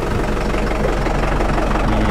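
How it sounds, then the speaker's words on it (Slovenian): A specialised 190-horsepower transport tractor idles close by with a loud, continuous low diesel rumble and steady knocking pulse, no talk. "to je pa specializiran traktor, namenjen predvsem transportu"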